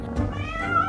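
A house cat gives one short, close meow that rises slightly at the end, with nothing else heard around it.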